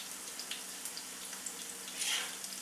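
Spring onion vadi pieces fry gently in a little oil, producing a faint, even sizzle with a few light crackles and a slightly louder hiss near the end.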